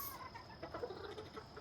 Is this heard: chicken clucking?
yes